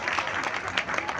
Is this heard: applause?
yes